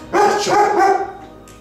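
One dog gives a single loud, drawn-out bark-whine that is close and harmonic and fades quickly, with no voices over it.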